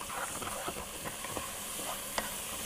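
Butter sizzles in a pan of caramel while it is stirred for a rice dish, giving a steady crackling hiss with scraping stirs and small clinks close by.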